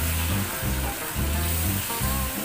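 Fish curry masala with blended tomato being stirred and sautéed in a pan, a loud continuous sizzle with thick bubbling under the strokes of the spatula, alone with no voices.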